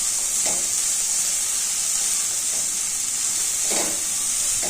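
Chopped capsicum, carrot and onion fry for semiya upma in a pan, a loud, steady hiss of sizzling oil up close with a few soft stirring scrapes, and no one speaking.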